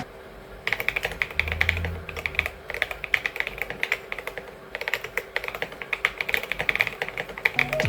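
Rapid typing on a Lofree keyboard, a steady stream of crisp, close key clicks with irregular rhythm and occasional louder strikes, continuing for several seconds with no voices.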